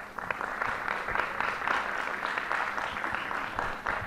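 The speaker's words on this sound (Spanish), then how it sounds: "quiero que recibamos con un fuerte aplauso a Orlando Martínez" Audience applause welcomes a guest speaker at a juggling panel discussion, a dense, steady crackle of many clapping hands that holds at even loudness throughout, close and continuous with no voices over it.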